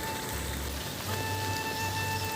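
Heavy morning rain falling steadily on surfaces, a constant soft patter heard at moderate distance with faint tonal hums in the background and no talking.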